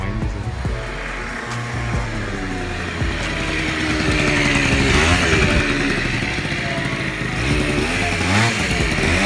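Yamaha Aerox scooter engine running loud and close with a steady buzzing drone, swelling as the throttle is opened into higher revs toward the end.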